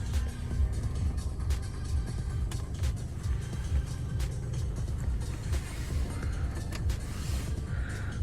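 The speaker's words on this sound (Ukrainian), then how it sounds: "Заводиться автомобіль без проблем." A 2017 Mercedes-Benz GLC 220d diesel engine idles with a low, steady rumble throughout, joined by faint clicks and small mechanical ticks, no talking.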